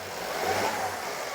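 A Mercedes-Benz GLS 450 engine is revved briefly, a steady mid-pitched engine rise heard up close for about a second, with no talk over it.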